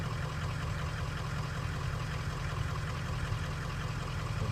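2003 Ford 6.0 Powerstroke diesel engine running with a miss, a steady low idle drone with faint irregular knocking pulses, close and continuous without talk.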